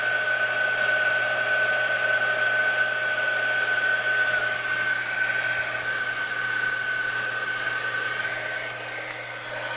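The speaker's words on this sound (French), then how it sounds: "Donc je mets en route mon heat gun." Heat gun blowing to melt embossing powder on a handmade card, a loud steady whooshing roar with a high whine, running continuously and easing slightly toward the end.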